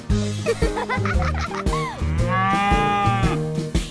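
A cartoonish cow moos in long, drawn-out lowing calls over the bouncy music of a children's sing-along farm song.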